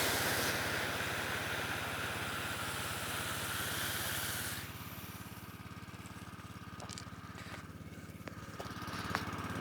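Small engine of a wildfire mobile attack pump unit running steadily at barely-open throttle with the valve open, a continuous close buzzing drone that drops to a quieter, duller tone partway through, with faint clicks over it.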